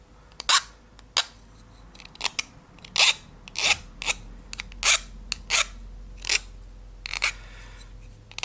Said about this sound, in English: Just taking the burr off the edge.